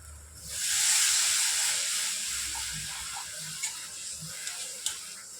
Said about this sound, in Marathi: याच्यात आता आपल्याला घालायचं आहे पाणी